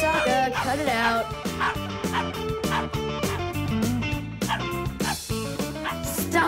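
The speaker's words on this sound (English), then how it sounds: "That's enough with the barking." A cartoon dog barks and yips repeatedly in quick bursts, close and loud, with music playing throughout and voices mixed in.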